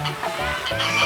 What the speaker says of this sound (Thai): อ่าห่านมาแล้ว